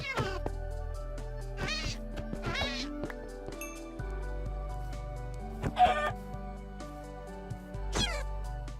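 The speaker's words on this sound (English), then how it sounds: "Sorry, little kitty." A Minecraft cat meows repeatedly in short rising and falling calls, several clear bursts spread across a looping background melody from the game.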